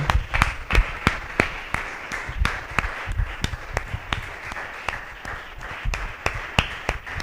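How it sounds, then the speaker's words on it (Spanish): A church congregation applauds in worship with loud, rhythmic, evenly spaced claps, like unison clapping, over a low murmur of background sound. "Denle un aplauso al Señor."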